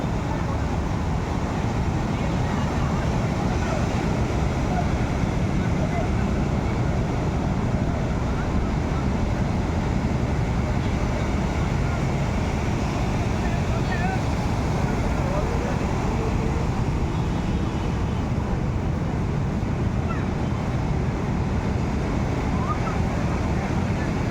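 Wind and breaking waves on a beach make a steady, loud, continuous roar that washes over everything without pause for the whole stretch.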